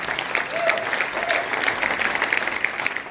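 A church congregation at a wedding blessing in Paris claps and cheers in steady, dense applause throughout, a full crowd close and loud with scattered voices mixed in.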